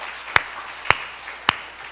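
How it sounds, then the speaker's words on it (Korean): A church congregation at a Sunday service gives three sparse, evenly spaced claps, faint and distant, with no talk. "우리 하나님께 박수로 영광 올려요"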